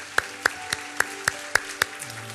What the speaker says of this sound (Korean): 우리 다시 한번 하나님 앞에 영광과 감사의 박수를 드리도록 하겠습니다